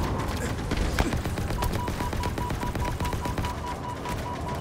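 Rapid automatic gunfire in the video game Halo Infinite, dense and loud bursts of fire with mechanical clatter that continue for the whole stretch.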